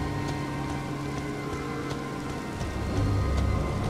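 Rain falls in the video game Elden Ring, a soft, continuous patter of drops that stays fairly quiet and steady throughout, with a slightly fuller wash toward the end.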